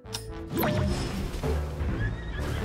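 A horse in Zelda: Tears of the Kingdom lets out a loud, close whinny with a rising then falling squeal, followed by snorting and hoof clatter.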